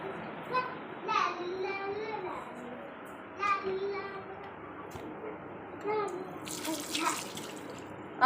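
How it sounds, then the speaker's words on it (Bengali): Tap water runs and splashes as hands are washed under it, with children's voices and an adult speaking over the flow. "হাত ধুয়ে নাও"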